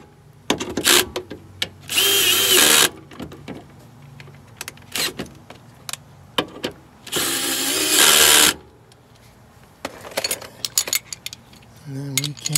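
Power drill tightening sway bar bolts under a Honda EF hatchback, with two long, loud whirring bursts separated by clanks and rattles of metal tools and parts nearby.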